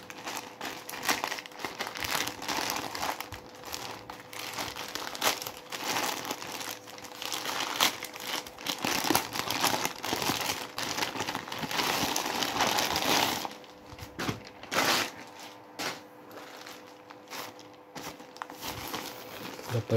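Plastic packaging, including a zip-lock plastic bag, crinkles and crackles without pause as a Classic Deathbat band t-shirt is unboxed, close up and busy, with no talking.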